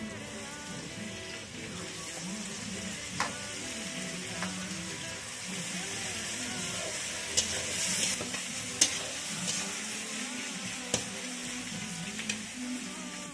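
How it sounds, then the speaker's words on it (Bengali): Onions sizzle and fry in hot oil with garlic, with steady stirring and sharp utensil scrapes against the pan close by. "তো এখন আমি দিয়ে দেবো পেঁয়াজ।"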